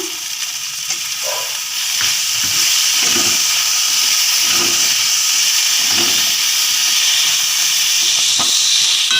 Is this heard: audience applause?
no